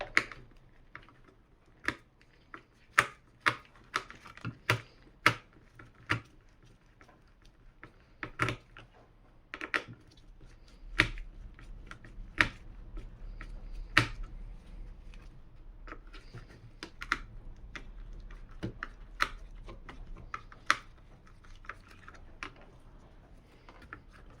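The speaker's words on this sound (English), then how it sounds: "So I'm just going to loosen these screws right here so you can get the cover out of the way." Screws loosened on a SMEG coffee machine to take the cover off, with irregular close clicks and small metallic taps, bunched at first and then sparser over a faint low hum, and no voices.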